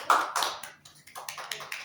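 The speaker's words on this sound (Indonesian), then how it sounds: "Kita kasih tepuk tangan untuk kelompok satu" A small classroom group at a micro-teaching practice session gives a brief, sparse round of hand claps, a few loud claps at first and then lighter scattered ones.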